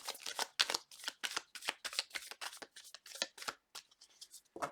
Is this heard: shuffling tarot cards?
yes